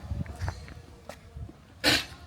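A short, sharp sneeze bursts out once near the end, loud and close, after quieter background sounds of people on a trip in Tenerife.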